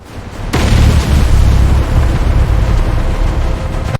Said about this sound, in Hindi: और फिर पहला धमाका।